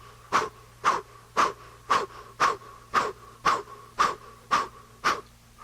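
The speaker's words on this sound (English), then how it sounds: "with the puckered lips, rounded lips, breath of fire" Rapid breath of fire through puckered, rounded lips: about ten sharp, forceful puffs in an even rhythm roughly every half second, close and loud with a whistling edge, no talk.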